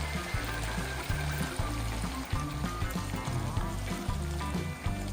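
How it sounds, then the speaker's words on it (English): A cup of water poured into a hot cooking pot of Peshawari chicken, a steady splashing stream over sizzling, with a faint low rhythmic knocking underneath, continuous for several seconds without speech. "now I'm going to add half cup or just about a cup of water."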